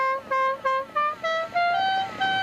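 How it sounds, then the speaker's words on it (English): An air horn fitted to a stripped-down Yamaha Riva 200 scooter plays the Dixie tune, a loud, clear run of about eight short, pitched blasts stepping through the melody. "an air horn that plays Dixie"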